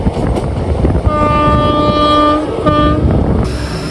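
A special electric train hauled by a G9 locomotive with a high-rise pantograph blows a loud, sustained horn and rumbles past on the Ernakulam–Guruvayur railway line in Kerala, close and heavy.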